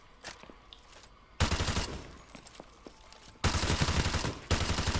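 Bursts of light machine gun fire from Call of Duty: Modern Warfare 2 Campaign Remastered, loud and rapid, with two long sustained volleys separated by a quieter stretch of scattered distant shots.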